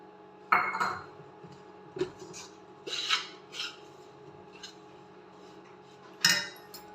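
Gram flour, ghee and semolina stirred in a pan for ladoo, giving dry rasping scrapes of a spoon against metal, a few separate strokes spread out with quiet gaps between them, close and moderately loud.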